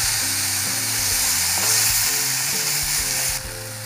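Steady sizzle of green chilli, onion and tomato sautéing in a pan, a dense crackling hiss throughout with faint tonal hum underneath and no voices.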